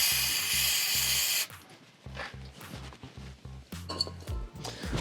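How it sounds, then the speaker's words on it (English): Brake cleaner bursts from an aerosol can onto a gear oil drain plug in one loud, close hiss of about a second and a half, followed by light metallic clinks and handling noises. "give this a quick spray"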